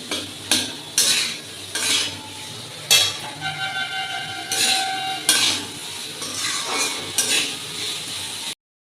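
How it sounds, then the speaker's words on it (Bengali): Food frying in oil in a kadai, with repeated spatula scrapes and metal clinks against the pan in an uneven rhythm over a steady sizzle, close up and fairly loud. "এবার এটাকে ভালো করে ভেজে দেবো।"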